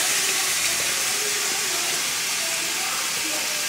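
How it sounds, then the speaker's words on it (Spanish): Ground beef browning in a pan gives off a steady close sizzle, an even frying hiss throughout with a faint voice in the background. "Nada más voy a dorar la carne molida que es esta."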